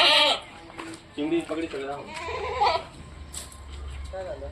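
Pregnant Kathiawadi goats in a group of twenty-one bleat several times in quick succession, close and fairly loud, with a low rumble underneath.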